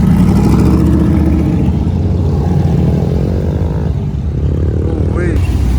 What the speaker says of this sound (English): Cars coming back from the streetcar cruise.